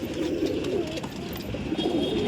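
A pigeon coos softly in low repeated throaty calls, close and clear against faint market hubbub at a pigeon sale at Dankuni haat.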